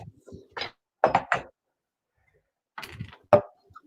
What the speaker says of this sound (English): Let's fill it with ice.